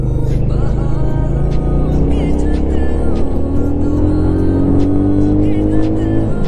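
Car accelerating hard on a test ride, a loud continuous engine drone rising steadily in pitch as it pulls through the gears, close and interior-sounding.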